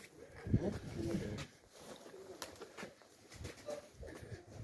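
Pigeons coo softly at a pigeon loft, low and intermittent, while people talk over and between the calls.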